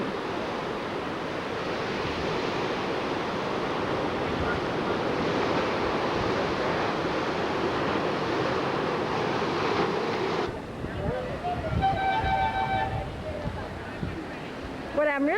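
Ocean surf rolling ashore near fishing boats on the Peruvian coast, a constant loud wash of waves and wind across the microphone, ending with a brief change in the background near the close.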